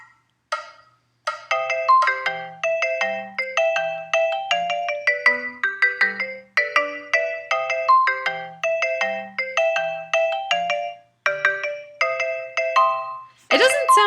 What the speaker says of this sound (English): here's what a walking bass is going to sound like with all these quarter notes